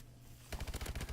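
Pre-nerf ASM1 submachine gun firing in Call of Duty: Advanced Warfare: after a quiet half-second, a rapid automatic burst of loud, close shots in a steady fast rhythm.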